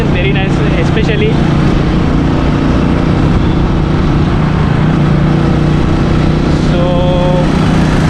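A 2020 Royal Enfield Meteor 350 BS6 single-cylinder motorcycle on a test ride, its engine a steady, loud low drone with wind rush. Someone talks over it at the start and again near the end.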